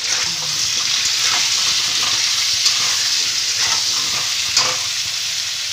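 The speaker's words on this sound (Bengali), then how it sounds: "দিয়ে এবার আমি আলুগুলোকে ভেজে নেব।" Potato pieces frying in hot oil with salt and turmeric for Kashmiri aloo dum, a continuous close sizzle with occasional stirring scrapes and a couple of sharper clinks.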